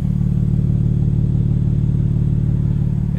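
A 2024 BMW M2 Coupe idles with its exhaust valves open, giving a loud, steady, deep burbling rumble that holds evenly throughout with no revving.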